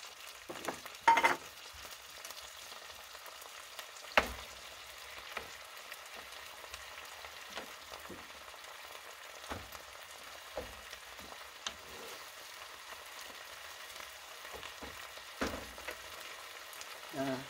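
Canned deep sea red salmon frying quietly in a pan with onions, a soft continuous sizzle broken by a few sharp pops and stirring clicks, no talking.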